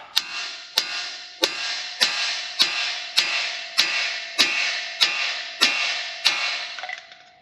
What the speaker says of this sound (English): I'm going to knock on the side of it with a hammer to see if it'll release.